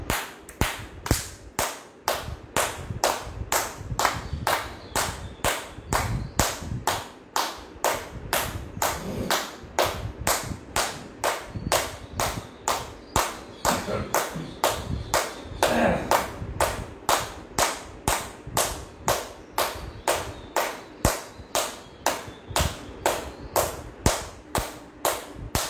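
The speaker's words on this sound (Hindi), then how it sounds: "सातवीं क्रिया, ताली बजाना 60 काउंट" Hand clapping during a yoga exercise of 60 counts, sharp, even claps repeated at a brisk steady rhythm for the whole stretch, close and clear with nothing else over them.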